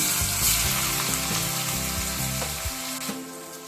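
Capsicum hits hot white oil and butter in a pan, setting off a close, continuous sizzle with fine crackling that fades slightly toward the end, with no talking.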